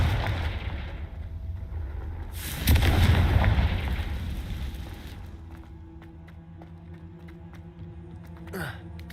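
Confringo fire spell blast in the Hogwarts Legacy video game: a loud burst around the middle swells into a rumbling roar, then fades beneath ambient game music and tones.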